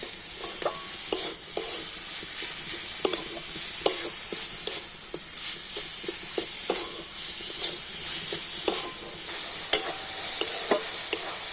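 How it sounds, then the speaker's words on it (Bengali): A utensil stirs date-palm jaggery and grated coconut filling in a pan, giving irregular close scrapes and taps against the metal over a soft, steady sizzle with no talking. "আর এবারে আমি গুড় আর নারকেলটা একটু ভালো করে মিশিয়ে নেব"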